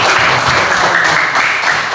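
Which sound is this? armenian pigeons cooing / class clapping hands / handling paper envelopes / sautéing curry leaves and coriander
class clapping hands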